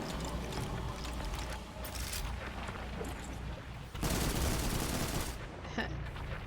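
Weapon fire in the sci-fi shooter Destiny 2: rapid, continuous automatic bursts with mechanical clatter, loud and near, running through the whole stretch without speech.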